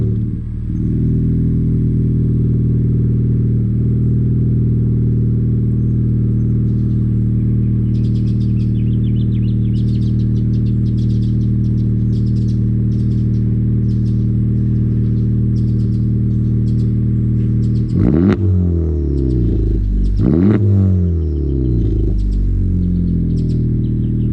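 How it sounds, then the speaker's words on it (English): A Honda Civic Type-R FK8 with an AWE track exhaust and catless downpipe idles with a steady loud drone, then gets two sharp blips of revving near the end that rise and fall quickly. "I do love the AWE track exhaust, and then the Ballade Sports Catless downpipe"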